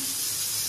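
Fritters (bora) fry in a little oil, giving a continuous close sizzling hiss with no voices.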